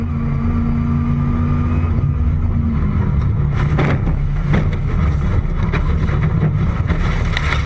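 A loud Dodge Viper race car engine roar with rushing wind noise, then a burst of harsh broadband crashes and rattles around the middle as it hits hard, continuing into rough scraping noise.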